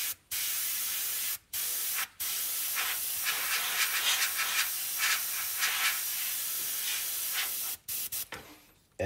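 Airbrush spraying white paint in long steady hisses, broken by short pauses between passes, close and loud with no talking.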